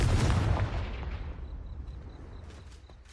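The Confringo spell in the video game Hogwarts Legacy goes off as one loud, booming explosive blast that rolls away over a few seconds, with small chimes tinkling through the fading tail.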